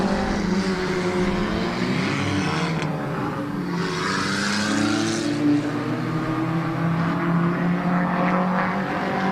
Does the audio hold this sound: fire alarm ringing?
no